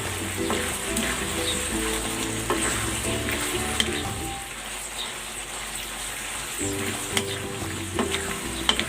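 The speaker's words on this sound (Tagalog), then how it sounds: "Ilalagay ko na itong hipon sahog natin." Shrimp sizzle steadily in a hot pan, a dense close-up frying hiss with occasional stirring clinks, continuing alone without talk.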